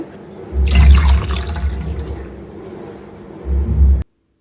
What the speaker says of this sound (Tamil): நான் ஒரு மூணு கப் அளவு தண்ணி சேர்த்துக்க போகிறேன்